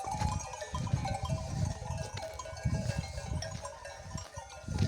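Sheep are driven toward the barn on a mountain pasture, with scattered bleats and low rumbling, shuffling movement close by and a steady outdoor background throughout.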